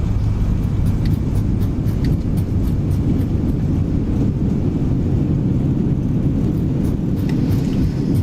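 An A320neo's engines roar at full reverse thrust during landing rollout in Microsoft Flight Simulator 2020, a loud, steady low rumble that holds throughout with no break.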